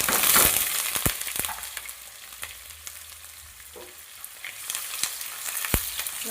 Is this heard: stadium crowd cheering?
no